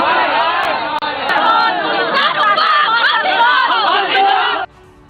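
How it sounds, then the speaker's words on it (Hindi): A street protest crowd in Dumka, Jharkhand chants loudly and continuously, many voices merging into a dense roar that cuts off abruptly near the end. "दुमका से लेकर रांची तक लोग सड़क पर उतरकर प्रदर्शन कर रहे हैं"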